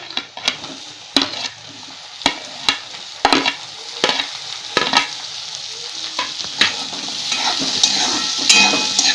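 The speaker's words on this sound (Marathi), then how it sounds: "हे चांगलं हलवून भाजून घ्यायचं 2 ते 3 मिनिट मस्तपैकी." Onion, tomato and green chili fry with a steady sizzle in a pan while a utensil scrapes and stirs in sharp, repeated strokes, close and alone with no talk.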